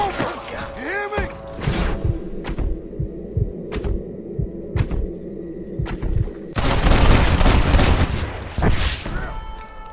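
Gunfire in the Western video game Red Dead Redemption: a string of sharp shots spaced through the scene, then a denser burst of firing near the end, over a low rumbling backdrop with character voices in the mix.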